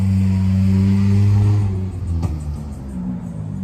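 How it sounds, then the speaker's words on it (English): A hot rod car passes nearby with a loud, deep engine rumble that swells and then fades as it drives off, heard without any talk. "hot rod just drove by"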